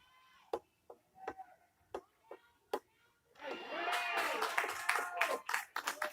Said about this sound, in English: Crowd is getting a little ruckus here.